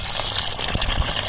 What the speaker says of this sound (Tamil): தண்ணி ஊத்துறா.